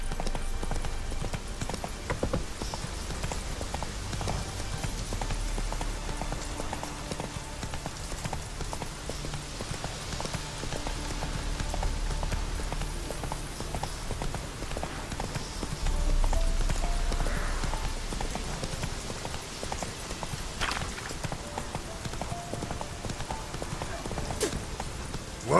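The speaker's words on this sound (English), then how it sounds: "Whoa there, Roach." Horse hooves clatter in a steady galloping clip-clop throughout, a mount ridden in The Witcher 3: Wild Hunt, loud and continuous over game ambience, with a brief neigh-like sound and some speech.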